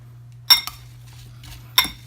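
A utensil clinking against a bowl while apples are mixed with orange, two sharp bright clinks about a second apart with a softer clatter between, close, over a low steady hum and with no talk.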